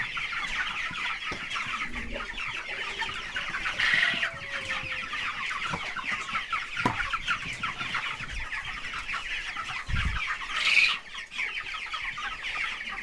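Broiler chickens cluck steadily in a coop, a dense chorus of close, continuous clucking with a few louder individual calls rising above it.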